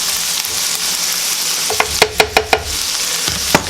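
Shrimp scampi with broccoli sizzles steadily in a pan, a loud, close hiss of frying broken by a few sharp knocks and clatters of stirring midway.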